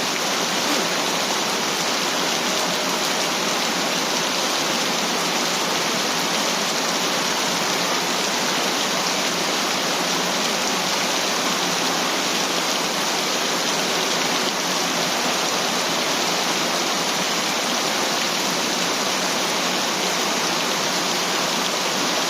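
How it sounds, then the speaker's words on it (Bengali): Heavy rain pours down steadily and loudly, a dense unbroken roar of water with no voices over it. "কি পরিমাণ বৃষ্টি রে ভাই"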